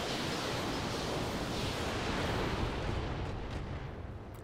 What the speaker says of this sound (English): And just fire the missiles.